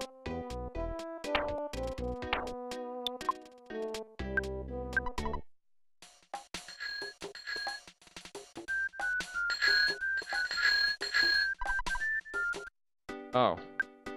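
Chiming game sound effects from the SNES title Mother 2, with bright dings and jingles including a bicycle bell rung by button press, repeating in short bursts across the clip while a player talks.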